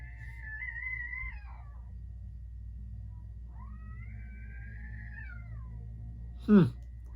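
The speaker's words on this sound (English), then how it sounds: "apparently went from my favorite band to supposedly hearing a cat yell and scream" Two long, drawn-out cat meows from outside at a distance, separated by a pause, followed by a brief louder thump.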